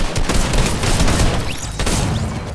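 Rapid bursts of gunfire in a Fortnite match, dense and loud, with overlapping booming shots and brief gaps between volleys across the whole stretch.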